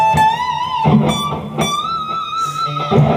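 An electric guitar plays a solo section from a rock song, with sustained bent notes and singing lead lines over a steady backing. It is loud and close, with no speech.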